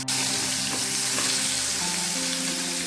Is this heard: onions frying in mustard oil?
yes